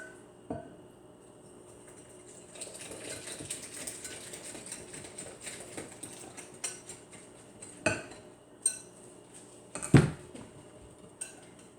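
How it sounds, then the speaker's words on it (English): Milk being whisked into dry ingredients for corn meal bread in a bowl, with a steady stretch of clinking and scraping, then a few sharper knocks of utensil against dish near the end. "Then what we're going to do is incorporate the milk into our dry ingredients."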